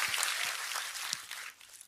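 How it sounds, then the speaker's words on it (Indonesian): Audience applause during a church revival service, a brief dense wash of clapping that fades out near the end. "Berikan tepuk tangan yang meriah buat Tuhan"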